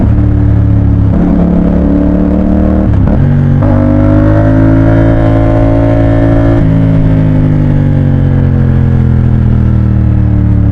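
A motorcycle engine hums steadily and loudly while riding, its pitch dipping briefly around a gear change then climbing again, with continuous wind and road noise and no talking.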